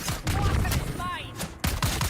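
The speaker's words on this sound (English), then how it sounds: "Can you stop shooting me, please?" Rapid gunfire in the video game Dune: Awakening, several sharp bursts of shots at the start and again near the end, with other game sounds in between.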